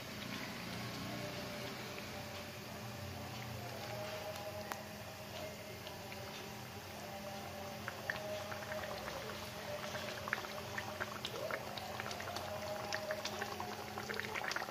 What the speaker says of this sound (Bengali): ফুটে এসে গেছে, এখন আমি মাছগুলোকে দিয়ে দেবো একে একে।